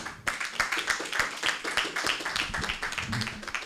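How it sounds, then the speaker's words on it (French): Church congregation clapping on a Sunday, a sharp run of hand claps with audible individual strikes, close and fairly loud, with voices mixed in. "Applaudissons pour Jésus."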